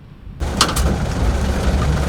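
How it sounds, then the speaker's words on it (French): A military convoy vehicle of the Benin Armed Forces, engine running: a steady low rumble that starts abruptly, close and constant, with a couple of brief higher clanks near the start. "moteur en marche."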